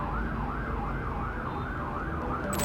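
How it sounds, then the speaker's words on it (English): An ambulance siren wails in a steady, repeating rise-and-fall cycle, loud and continuous from start to finish. "I chose the wailing of an ambulance siren"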